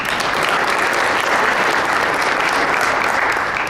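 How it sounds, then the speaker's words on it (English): Audience at a chamber of commerce legislative breakfast applauding steadily, a dense, loud wash of clapping that holds evenly for the whole stretch. "Give him a round of applause."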